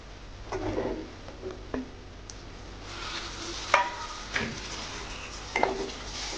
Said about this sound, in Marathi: याच्यामध्येच आपण आता टोमॅटो सुद्धा टाकून घेणार आहोत.